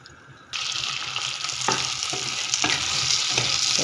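Sopas soup in a pot on the stove, a steady, close bubbling and sizzling hiss that begins abruptly and runs continuously with occasional soft knocks, no voices.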